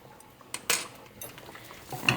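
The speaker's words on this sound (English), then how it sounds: "And stir, stir, stir." A pot of rice with a quarter teaspoon of salt being stirred: soft scraping and a few brief clinks of a utensil against the pot, fairly faint and close.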